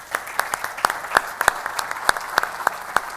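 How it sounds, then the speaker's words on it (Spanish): Scattered applause from a conference audience welcoming a panelist, fairly sparse individual claps at moderate distance with no voices over it. "Por favor, un aplauso."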